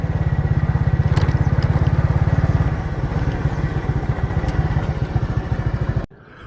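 A motorcycle idling close by in a rural area of South Punjab, Pakistan, a loud, rapid, steady thumping putter that runs for about six seconds and then cuts off abruptly.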